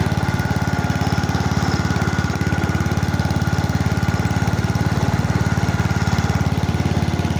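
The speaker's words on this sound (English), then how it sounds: "The whine goes away when the transmission warms up." A 1988 Simplicity 7116H lawn tractor runs steadily nearby, its engine giving a loud, even, rapid pulsing drone with a cold transmission whine riding over it throughout.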